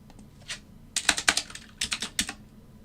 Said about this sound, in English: my typing is so bad today